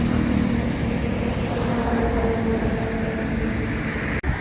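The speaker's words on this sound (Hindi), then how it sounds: "अभी एक मेट्रो अभी उधर परी चौक की तरफ गई और दूसरी अभी थोड़ी देर के बाद निकलेगी डिपो मेट्रो स्टेशन की तरफ" Delhi metro train running near a depot station, a steady rumbling rail noise with faint squeals, heard from nearby outdoors.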